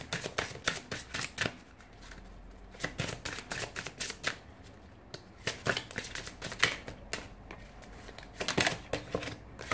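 Oracle cards being shuffled in bursts of crisp riffling and flicking, close and fairly quiet, with short pauses between runs.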